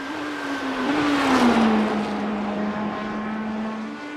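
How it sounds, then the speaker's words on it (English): Heard from outside, a race car engine in the iRacing sim drones loudly, its pitch dipping and swelling near the middle as if passing, then settling into a steady, sustained hum. "And this is what the car sounds like from outside the car."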